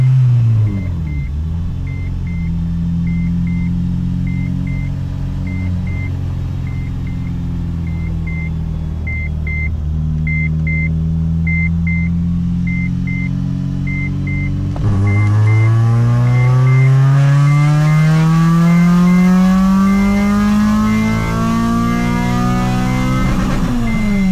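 A 2007 Honda Civic Si with a JDM K24a engine revs on a dynamometer, pulling steadily upward in pitch through the gears, loud and continuous with a repeating electronic beep above the roar.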